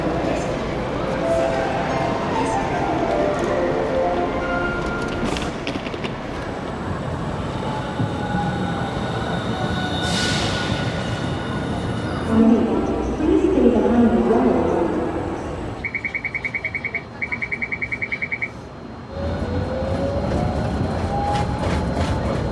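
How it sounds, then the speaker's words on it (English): A Hiroden streetcar tram on Route 1 in Hiroshima, a rumbling rail run with clickety-clack and screeching wheels, a bell-like warning chime near the end, mixed with city noise and people talking. "I can actually see the tram over there."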